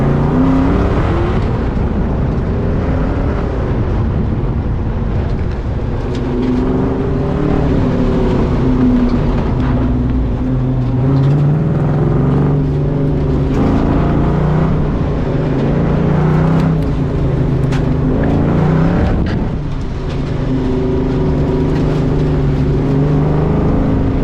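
A CAM-T class car on an autocross course revs loudly and steadily for over twenty seconds, its engine note rising and falling through shifts and tight corners, close and continuous with no talk.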